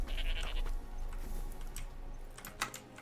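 A short sheep bleat in the video game Forspoken near the start, followed by rapid keyboard clicking and a few sharp taps.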